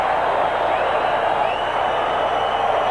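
Sellout stadium crowd at a 1980 Oakland Raiders American football game, a steady loud roar of massed voices held evenly throughout.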